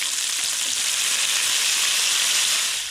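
Meat sizzles loudly on an old Char-Broil grill, a steady close hiss of frying that continues without a break and then cuts off at the end.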